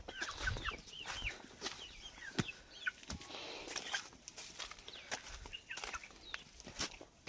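Chickens cluck and murmur close by while following a person around a farm in Chhattisgarh, with continuous soft clucks, occasional louder calls and scratchy movement sounds.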